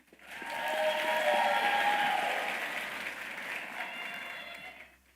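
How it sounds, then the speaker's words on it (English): An audience at a high school graduation ceremony breaks into applause that swells quickly, holds steady for a few seconds, then tapers off. "Round of applause for the group, please."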